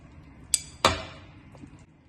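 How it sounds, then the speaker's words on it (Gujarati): Two sharp clinks, a spoon striking a mixing bowl while peanut burfi ingredients such as peanuts and milk powder are combined, the second louder and ringing out briefly before a quiet background. "હવે આ મિક્સિંગ બાઉલમાં આ બધી સામગ્રી ભેગી કરી એને મિક્સ કરી લઈશું."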